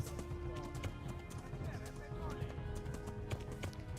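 A horse gallops in the video game Kingdom Come: Deliverance, its hoofbeats a steady, rapid clip-clop running throughout beneath tonal game sound and a voice.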